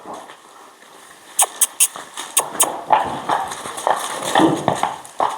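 A newborn foal's hooves clop in an uneven walking rhythm on a hard surface, several sharp distinct hits over faint background noise.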